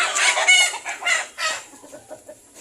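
Chickens clucking at close range on a small backyard farm where hens hatch eggs without an incubator, a rapid run of overlapping clucks followed by softer, scattered calls.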